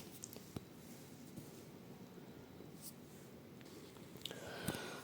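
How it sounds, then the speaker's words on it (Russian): A mattress protector cover rustling and crinkling as it is handled, faint scattered crisp crackles and scratchy swishes close by, growing a little louder toward the end. "Так, а вот на матрасник. Слышите, как он шуршит?"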